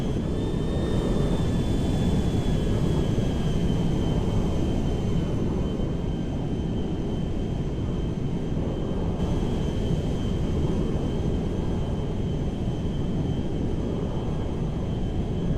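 An IL-76M cargo airplane climbs out in GTA 5, its jet engines a steady, loud roar with a faint high whine running over it throughout.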